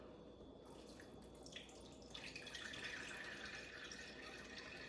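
Homemade elderberry syrup pours steadily through a fine mesh sieve into a measuring cup, a continuous soft trickling and splashing that stays even and close throughout.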